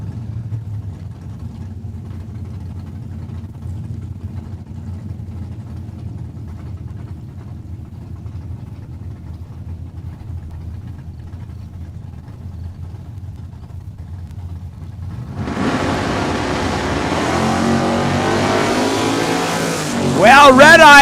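Drag strip launch as a Ford Mustang and a Pontiac Acadian race at a Saskatchewan raceway: a low idle rumble under announcer talk, then the engines roar loudly and build toward the end.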